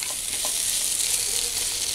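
Kerala-style beef liver fry with garam masala and curry leaves is stirred in a hot pan, giving a dense, loud, unbroken sizzle with soft stirring scrapes through the short span.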